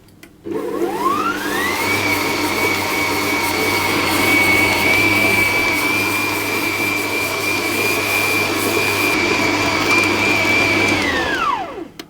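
An electric stand mixer kneading brioche dough at medium speed, its motor whining up, holding a steady loud hum for about ten seconds, then winding down.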